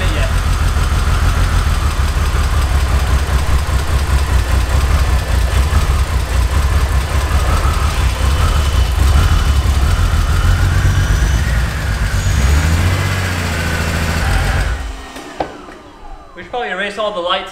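The rebuilt engine of a wrecked BMW E46 runs loud and close with a steady, rough idle, then cuts off abruptly near the end, and voices are briefly heard afterward.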